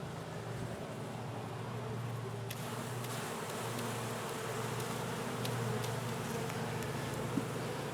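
Honey bees buzz in a dense, steady swarm during removal of a colony from a water meter box, a continuous close hum with occasional sharp knocks and handling noises.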